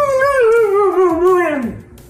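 Dog howling loudly and close, one long wavering, yodel-like howl that bends and slides down at the end, heard on its own with no talk.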